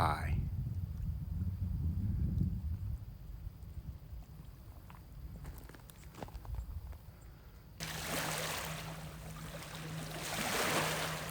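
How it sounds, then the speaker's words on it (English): Mississippi River water sloshes and laps as a wake rolls in from a passing boat, building to a louder broadband wash near the end; no one speaks. "Boat just drove by and made some waves."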